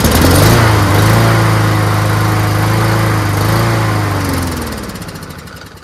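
Honda-powered Troy-Bilt TB240 self-propelled lawnmower, a discarded garbage-pick machine, running with a loud steady engine drone that wavers slightly in pitch, then sags and fades as it dies.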